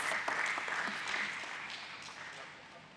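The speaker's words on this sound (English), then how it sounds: "a louder round of applause" Audience applauding at the AMI Organics Limited stock listing ceremony, a steady wash of many hands clapping that slowly tapers over a few seconds, with some voices mixed in.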